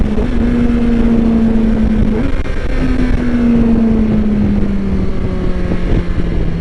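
A 2023 Kawasaki Versys 1000 SE engine climbs steadily in pitch on an empty street, holding near its 10,000 RPM limiter, then dropping slightly after a brief shift. Loud and continuous under heavy wind rush, with no talk.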